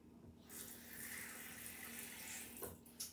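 Tap water runs into a small cup, a steady close gush and splash lasting a few seconds with a slight change near the end, faint and without talking.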